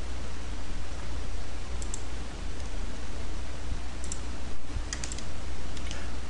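Quick mouse clicks selecting polygons in modo 3D software, faint scattered double clicks over a steady background hiss.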